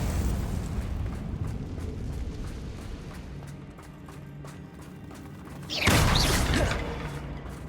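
Confringo blasting spell in Hogwarts Legacy, a single sudden burst near the end that flares loud and then fades, following a stretch of softer combat and movement noise.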